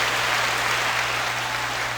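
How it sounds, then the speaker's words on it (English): Audience clapping at a community podcast event, a steady wash of many hands applauding continuously at moderate loudness with no talk over it. "So do the clapping deal."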